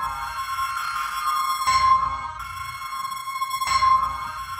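Reversed sound effects from a cinematic trailer sample library, two swelling backward hits that rise from a wash of noise and a sustained tone into sudden cutoffs, roughly two seconds apart.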